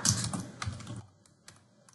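Text is typed on a computer keyboard: a quick burst of close key clicks in the first second, then a few sparse, quieter taps.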